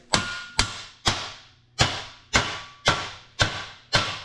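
Eight sharp, evenly spaced hammer taps drive a metal part into place during a fabrication build, each strike loud and close with a short ringing decay.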